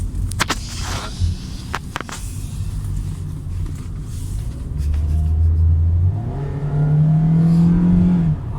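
A Perodua Myvi small economy car pulling away and accelerating, heard from inside. A few sharp clicks come first, then the engine hum rises steadily in pitch as it speeds up.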